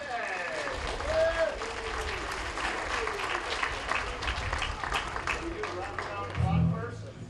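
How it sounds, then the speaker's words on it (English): An outdoor crowd at a city band concert applauds for the sound engineer, a sustained wash of clapping with voices and a few whoops mixed in. "There's Jay. Yeah, sure, give him a round of applause."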